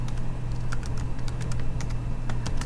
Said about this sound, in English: you're just typing in here what you did before